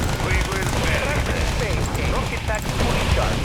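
Gatling tanks fire in Yuri's Revenge, dense rapid bursts of gunfire layered with battle noise and faint voice chatter, loud and continuous throughout.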